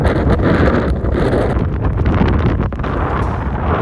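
Loud, continuous wind buffeting the microphone, a dense low rumble with gusty roaring that never lets up.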